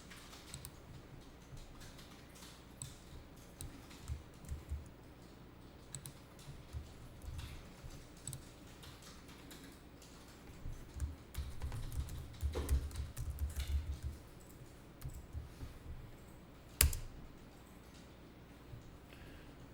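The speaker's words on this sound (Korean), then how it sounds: "주소만 직접 타이핑하죠." Computer keys clatter in uneven bursts across a quiet room. The taps are faint, then grow busier and louder toward the middle.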